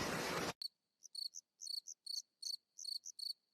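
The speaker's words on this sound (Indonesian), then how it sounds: "Suara jangkrik malam di Sumatera." Crickets chirping at night in Sumatra, sharp, high, clear pulses in irregular bursts over near silence, after a brief rush of noise at the start.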